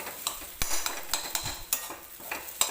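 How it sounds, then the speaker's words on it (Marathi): Boiled dal being stirred in a pan, with repeated scraping and knocking of a spoon against the metal in an uneven rhythm, close and moderately loud, no talk. "तर हे बघा छान असं हे मी मिक्स करून घेते"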